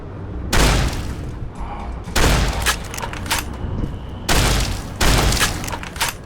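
Shotgun blasts in the game Fallout New Vegas: Dead Money, four loud booming shots spaced roughly two seconds apart, each with a broad crack and rumbling tail, no talking over them.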